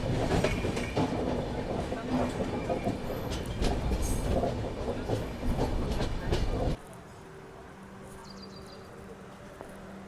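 The 11040 Maharashtra Express runs on rails near a curved station by a river, with loud, steady wheel rumble and clatter that drops abruptly to a quieter hum around two-thirds through.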